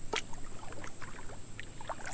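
A kayak paddles across water on a public-land bowhunting trip, with soft scattered splashes and drips from the paddle strokes, close and quiet, over a faint steady hum and no talking.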